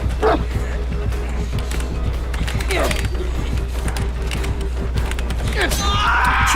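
Scattered yips and barks from a dog in Dead by Daylight, heard among creaking mechanical game sounds and a steady background hum.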